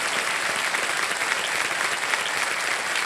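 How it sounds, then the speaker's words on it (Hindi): Steady, loud studio audience applause fills a Hindi quiz show set, a dense continuous roar of many hands clapping with no break. "एक बार फिर तालियों के साथ समाप्त करते हैं"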